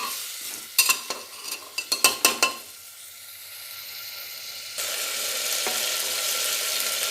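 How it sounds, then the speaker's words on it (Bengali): A spoon scrapes and clatters as rice is stirred in a pan for khichdi, with a cluster of sharp strokes early on, then a quieter pause before a steady sizzle of frying takes over. "চাল দিয়ে একটু হালকা করে নাড়িয়ে নেব"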